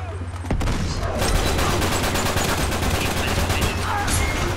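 Rapid gunfire in Uncharted 3 multiplayer at a chateau: a dense, loud fusillade of repeated shots crackles continuously for several seconds after a brief quieter lead-in, close and sharp.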